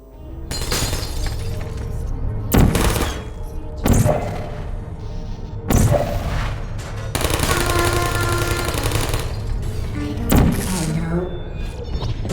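Turret gunfire in the video game Portal: several separate bursts of sharp, crackling rapid shots, loud and close, with synthetic robotic voices and game sounds between them.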